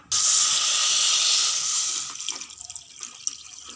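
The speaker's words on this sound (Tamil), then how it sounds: "இது கூட 1 லிட்டர் தண்ணி ஊற்றிக்கலாம்." Water is poured into a pot on the stove for a sweet made with jaggery and crushed cardamom, a loud steady splashing pour for about two seconds, then tapering into scattered drips and small splashes.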